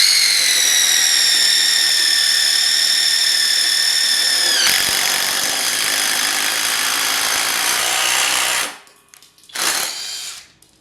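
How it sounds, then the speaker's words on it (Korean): A DEVON G3 step drill bores through steel, a loud high whining motor that steadily drops in pitch under load, turns into a harsh grinding roar, then cuts off with a brief final burst. "이번에 출시된 G3 스텝 드릴로 타공을 시도해보면"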